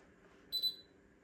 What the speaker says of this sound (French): l'imprimante a fait deux bips également